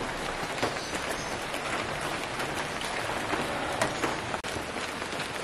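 Steady rain falls outdoors in Xilitla, Mexico, near the Edward James surrealist garden, a dense even hiss of drops hitting surfaces that continues unbroken throughout, loud and close, with no voices.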